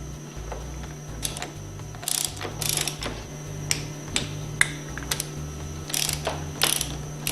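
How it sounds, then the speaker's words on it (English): A ratchet torque wrench tightens valve caps on a Hypro 2400 plunger pump, giving quick clicking ratchet strokes in short irregular bursts, close and fairly loud over a low steady hum, with no talking. "torque these valve caps to 85 foot-pounds"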